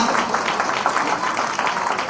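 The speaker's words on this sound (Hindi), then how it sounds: "हम लोग वेलकम करें इन लोगों को जोरदार तालियों से" Applause from an audience at a stage event, welcoming guests onto the stage; a steady, dense wash of clapping holds at an even level throughout, with no clear voice above it.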